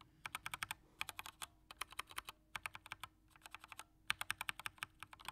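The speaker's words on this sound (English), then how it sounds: "I'm playing around with some keyboards" Clicky mechanical computer keyboard being typed on in bursts of rapid, crisp keystrokes separated by short pauses, close and fairly quiet, with no talking.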